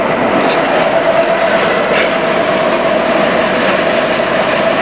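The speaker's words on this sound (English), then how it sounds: "Train rolling along the dock area here." A train rolls along a dock area outdoors, a steady, loud broadband rumble with a constant tonal hum running throughout, continuous and close, with no distinct clacks standing out.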